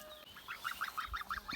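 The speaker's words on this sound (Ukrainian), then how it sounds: "І до нашої качиної когорти приєднюються гусенята." Young goslings honk in a quick series of about seven short, evenly spaced calls, close and fairly faint, with no talking.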